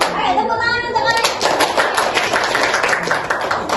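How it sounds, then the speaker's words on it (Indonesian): Schoolchildren clap their hands in a dense, lively burst that runs for a few seconds in a classroom, with children's voices mixed in and an adult's speech at the start. "Oke, tepuk tangan untuk kalian."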